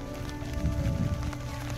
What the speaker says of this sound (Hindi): ये बारिश की जो आवाज़ है बिल्कुल पास में आ रही होगी माइक के